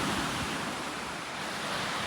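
Waves wash against a lake shore near a campsite at Split Rock Lighthouse State Park, a steady broadband surf with some wind noise on the microphone and no voices.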